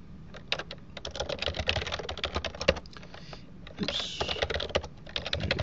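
Rapid, uneven typing on a computer keyboard while logging into a NetApp storage system over telnet, a steady patter of close key clicks with short pauses and a denser burst near the end, no voices.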